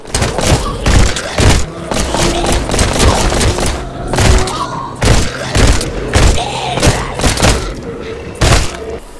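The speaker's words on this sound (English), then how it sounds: "So for example, I now have a machine gun." A machine gun fired in the VR zombie shooter A-Tech Cybernetic, heavy booming shots in repeated bursts with deep thuds, loud and close, and little else audible between volleys.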